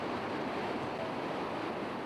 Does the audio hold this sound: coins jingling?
no